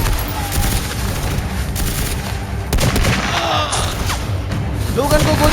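Gunfire in a shootout scene from a Hindi audio drama, a close, heavy, continuous volley of shots and thuds for the whole stretch, with shouted voices cutting through.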